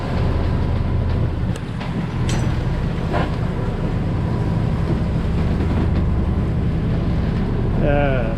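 A sport fishing boat speeds past at about 30 knots, heard from a sailboat on an overnight coastal passage. A continuous, loud, low engine and hull roar holds steady throughout.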